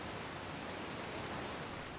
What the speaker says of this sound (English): The waterfalls are so loud.